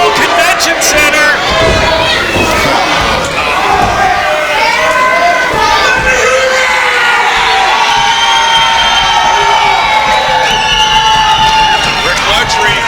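A wrestling crowd at a convention center cheers and shouts loudly and continuously, whoops and scattered clapping rising from a dense wall of voices, with a commentator talking over the noise.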